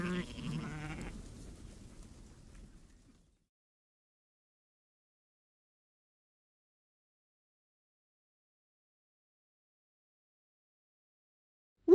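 Sheep on a French farm bleat in a short wavering call at the start, fading out within three seconds and leaving silence.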